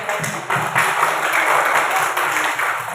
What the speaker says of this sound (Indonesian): tepuk tangan di kelompok